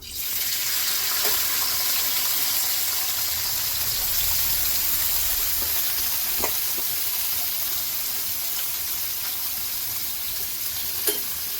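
Slices of bitter gourd (karela) fry in hot oil, giving a loud, steady sizzling hiss that lasts throughout, with a few faint clicks of stirring and no voices.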